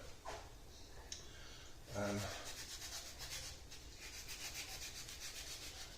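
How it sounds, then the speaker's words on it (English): A lemon is rubbed against a zester over beurre blanc sauce, producing soft, quiet rasping strokes in short repeated bursts close by. "If you want to, you can add a little lemon zest, which I'm going to."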